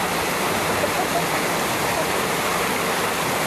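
Floodwater rushes through the streets of Santa Cruz, Manila in a loud, steady torrent, a broadband roar that holds without a break from start to end.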